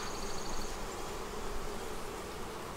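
Honeybees swarm thickly around an open beehive, making a dense continuous hum close by, with no voices.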